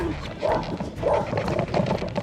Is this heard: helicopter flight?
no